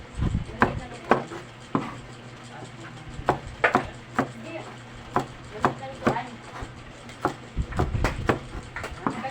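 A knife slicing Baguio beans on a cutting board gives quick, sharp chops in uneven runs, close and clear, with quiet background noise between strikes.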